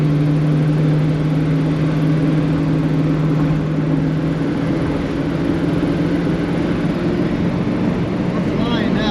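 Engine of a 1970 Ford Mustang droning steadily while driving, a loud low hum with strong tonal bands that holds for several seconds, then shifts as the throttle opens, continuous road rumble throughout.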